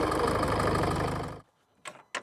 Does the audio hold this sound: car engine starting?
yes